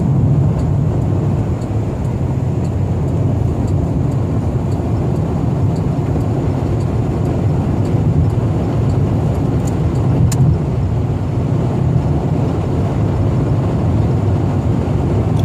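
A 1990 Cadillac Coupe DeVille cruising at highway speed around 80 mph, heard from inside as a loud, steady low road and engine drone with wind noise, no voices.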